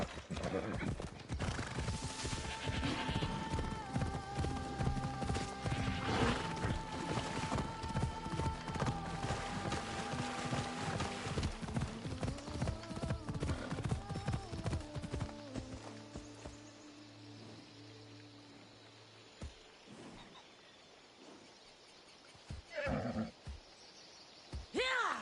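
Horse hooves clip-clopping in a steady walking rhythm with a few neighs and whinnies, surrounded by music and a voice speaking, fading out toward the end.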